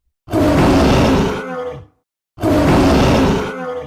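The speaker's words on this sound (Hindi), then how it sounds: "शंकर ने अपनी मोटी दहाड़ के साथ जवाब दिया।" A cartoon lion lets out two long, deep roars, each loud and full-bodied before trailing into a rough growl, separated by a short pause.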